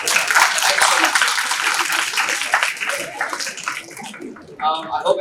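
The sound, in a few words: audience applause for the speakers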